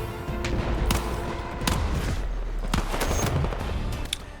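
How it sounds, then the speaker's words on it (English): Pistol gunfire in the Battlefield 6 video game: a rapid series of sharp shots crack out over a busy battlefield din, with no talk. "we try and take out a sniper with a pistol"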